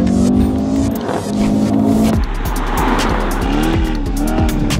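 A Mercedes E63s driven hard in manual Sport Plus mode snarls loud and close, its engine rising through gears with sharp shift breaks and tyres squealing.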